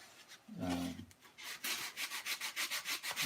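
Wood is sanded by hand in short back-and-forth strokes, a close, quiet rubbing that settles into an even rhythm of about a dozen quick passes.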